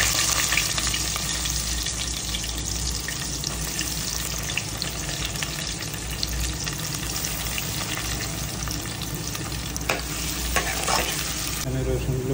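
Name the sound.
garlic frying in oil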